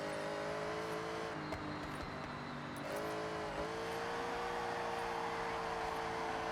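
A custom muscle car with a 1,500 hp engine cruises slowly, its steady engine drone holding a low even pitch throughout, continuous and moderately close with no revving.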